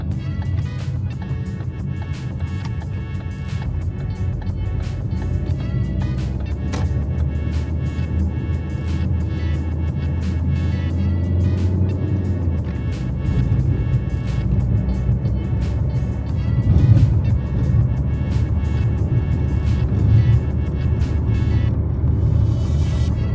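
Steady low rumble of tires and suspension heard from inside a 2011 Ford Focus moving at around 50 to 60 km/h, with faint thumps over a rough road surface.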